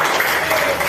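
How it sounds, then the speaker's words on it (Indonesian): Classroom applause from students, a dense steady wash of clapping that holds for the whole second with no talk over it. "Mari kita tepuk tangan."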